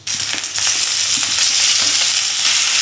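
Potatoes fry with cumin, turmeric, chili powder and salt in a hot pan, a loud steady sizzle with stirring scrapes and no talking.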